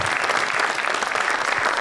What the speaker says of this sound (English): How about if we give a round of applause for Ben and Susan Bunsel?